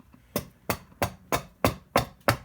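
An adze cuts across the end grain of a wooden workpiece in seven evenly spaced, sharp chopping strikes, close and distinct with no talk.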